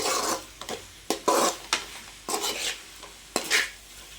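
A spoon stirs sauce into gobi manchurian (fried cauliflower) in a pan, making close, repeated scraping and sloshing strokes with short pauses between them and a light sizzle underneath, with no voices.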